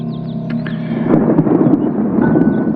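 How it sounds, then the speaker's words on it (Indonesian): Thunder rumbles from storm clouds before heavy rain during a camping trip in the forest, a loud, low, sustained roll that swells and lingers, with faint birdsong chirping over it at the start. "Beberapa kali suara petir bergemuruh di awan, menandakan sepertinya akan turun hujan yang cukup besar"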